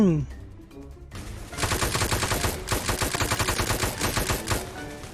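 Rapid automatic gunfire from the Roblox game Military Tycoon rattles in dense, sustained bursts after a brief quieter opening, loud and continuous for several seconds.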